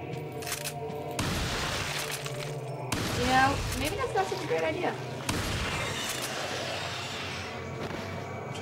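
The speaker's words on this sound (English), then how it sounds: "time to shotgun this guy" Shotgun blasts in Resident Evil 4, a few heavy booming shots spaced seconds apart amid game noise, while a player talks over the action.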